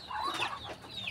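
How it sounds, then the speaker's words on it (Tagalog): Farm chickens clucking softly nearby, a few short overlapping bird calls at low volume over faint ambient noise, with no talk. "yan yung aming mga alagang manok dito"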